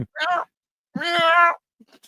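A person imitates a cat with two drawn-out meows, the second longer and louder, separated by a short pause.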